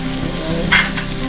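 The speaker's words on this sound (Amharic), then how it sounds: "እሺ አሁን ትንሽ ዝንጅብልና ነጭ ሽንኩርት አብሮ መቁላላት ስላለበት አረጋለሁ።" Ginger and garlic sauté in a hot pan while quanta firfir, an Ethiopian dried-beef dish, is cooked. A loud, close, continuous sizzle fills the moment, with a brief scrape near the middle.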